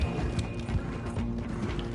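Horses gallop in Red Dead Redemption 2, their rapid hoofbeats clip-clopping in a steady driving rhythm, close and moderately loud, with faint rumbling and a brief whinny-like tone in the mix.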